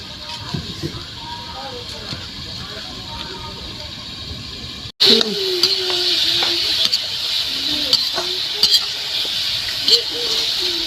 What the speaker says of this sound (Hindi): इसको थोड़ा देर तक चलाते रहना है, पकड़े ना कढ़ाई में।